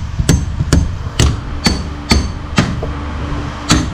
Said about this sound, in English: now we're going to hammer this in.